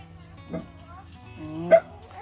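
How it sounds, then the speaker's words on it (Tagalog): A dog barks twice, a softer bark followed by a sharper, louder one, with low background noise between. "Gagalit na naman yung aso."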